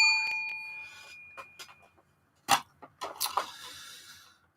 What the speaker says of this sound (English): 1 super chat bell for that.